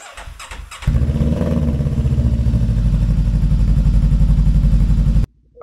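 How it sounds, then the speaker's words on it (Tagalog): A motorcycle engine fires up after a few short clicks and settles into a loud, steady idle close by, warming up in the early morning before a long ride; it cuts off abruptly near the end. "Magpainit na tayo ng motor"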